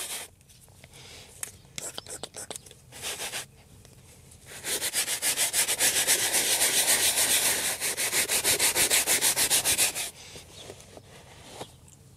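Rhythmic brisk scrubbing of a BMW 760 Li V12 leather seat with foam cleaner, a steady broadband rubbing burst lasting several seconds in the middle, framed by quieter handling and soft speech before and after.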